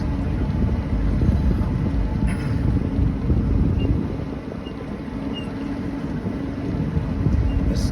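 A slow, comfortable boat cruises at midnight during Bikefest 2025, giving a steady low rumble of engine and water under constant wind buffeting, with no voices.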